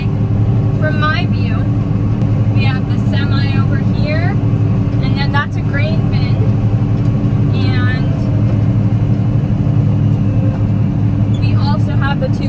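A combine harvester cuts wheat beside a coulee, its engine a constant low, loud drone heard from inside the cab, with a person talking steadily over the hum.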